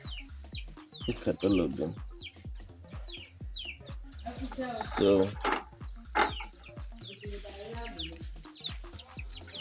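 Chickens on an African family farm cluck and chatter steadily close by. Someone speaks over the birds, and a few louder squawks rise out of the flock.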